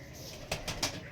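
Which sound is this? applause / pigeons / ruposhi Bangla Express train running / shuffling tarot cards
pigeons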